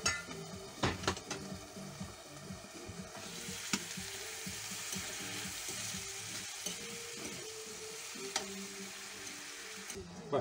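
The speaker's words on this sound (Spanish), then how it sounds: "ya acaba de hacerse la cebolla." Onion cooks in a hot pan with a splash of sherry wine, giving a steady close sizzle and crackle with spoon stirs and scrapes against the pan, a few louder knocks near the start, and no talking.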